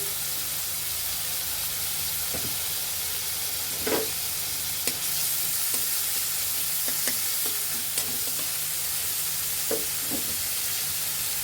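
Chopped onion, ginger and garlic frying in oil in a pan, a steady loud hiss with occasional stirring knocks and scrapes, no voices.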